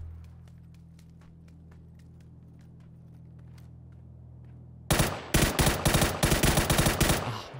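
Video game gunfire in PUBG: after several seconds of low hum with faint scattered clicks, a loud burst of rapid automatic shots cracks out in quick succession, close and alone.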